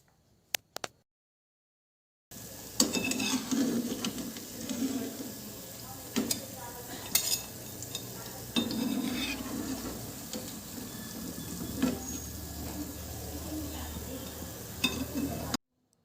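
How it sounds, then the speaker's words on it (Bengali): Wheat-flour biscuits frying in hot oil, a continuous close sizzle and crackle after a brief quiet start, with occasional louder pops and clatters of utensils. "প্রায় 8 থেকে 10 মিনিটের মধ্যে বিস্কিটগুলো কিন্তু খুব সুন্দরভাবে ভাজা হয়ে গেছে"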